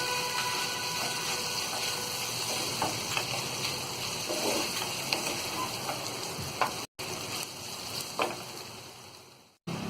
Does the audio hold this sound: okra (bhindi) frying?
yes